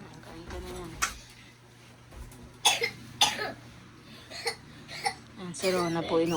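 A young child coughs several times in short, sharp bursts, close by, amid a quiet household with a low steady hum and some voices talking nearby.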